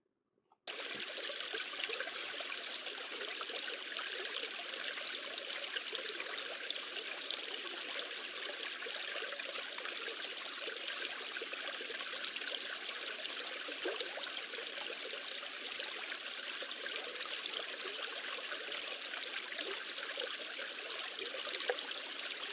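Water flowing in a stream, a steady bright rushing and trickling wash that begins abruptly after a brief silence and continues evenly throughout.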